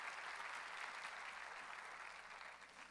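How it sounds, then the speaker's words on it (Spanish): A church congregation applauds for Jesus during a sermon, a dense, even roar of clapping that stays steady and fairly distant, then tapers slightly toward the end. "Dale más fuerte ese aplauso al que vive por los siglos"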